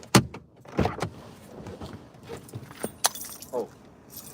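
Car keys jangle in short metallic bursts, a sharp rattle at the start, then more shakes about a second in and again near three seconds, close by in an otherwise quiet room.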